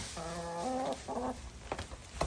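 Backyard chickens eating spaghetti noodles give a couple of drawn-out clucking calls, fairly close, followed by soft pecking and rustling.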